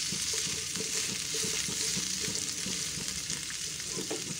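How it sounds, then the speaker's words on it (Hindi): Vegetables sautéing in a tablespoon of oil for mutton kofta, a steady close sizzle and crackle with scraping stirs throughout, no voices. "अब हम वेजेस भी ऐड कर देंगे। बस 1 मिनट तक हम इसे सॉटे कर लेंगे।"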